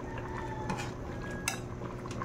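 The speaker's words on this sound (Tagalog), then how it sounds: "Medyo durug-durugin lang natin yung mga munggo natin." Soft scrapes and a couple of light clinks of a utensil mashing mung beans in a pot, quiet against a steady background hum.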